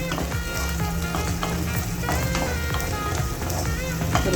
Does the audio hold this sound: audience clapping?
no